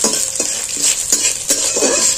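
Ginger paste frying for chana dal is stirred briskly in a pan, with about five rhythmic scraping strokes over a steady close sizzle and no talking.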